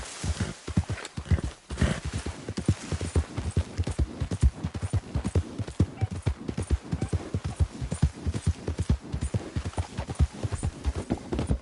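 Horse hooves clip-clop at a steady trotting rhythm in Red Dead Redemption 2, close and fairly loud, a continuous run of hoofbeats with no talk over them.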